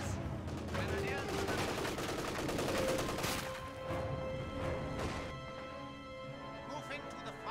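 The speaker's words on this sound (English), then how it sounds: "They're shooting! We are losing a sector. Taking fire!" Gunfire and explosions in the World War II strategy game Company of Heroes 2, continuous bursts and crashes with a constant mix of game voice lines and chatter.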